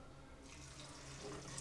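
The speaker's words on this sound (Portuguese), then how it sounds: "Aí vamos colocar água?" Tap water runs into a cooking pot in a home kitchen, a faint, continuous splashing stream with no talking over it.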